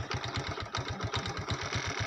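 An old tubewell pump engine, some 17-18 years in service, chugs steadily with a fast, even thumping beat, running continuously at moderate loudness.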